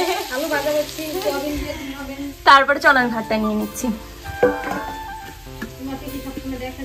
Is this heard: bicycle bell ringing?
no